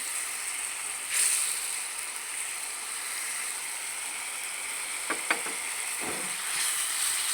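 A piece of chicken roasting in a pan, giving a steady soft sizzle and hiss with a few brief clicks and scrapes partway through, fairly close and with no talk.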